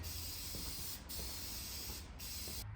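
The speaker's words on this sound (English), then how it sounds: "So I'm gonna spray them." A steady, close hiss of an aerosol can spraying black paint on parts of a 1978 Trans Am under restoration, broken by two brief pauses before the spraying resumes.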